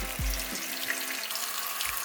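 Water runs into a sink or bowl for soaking dried shiitake mushrooms, a steady close rushing pour with a couple of low knocks.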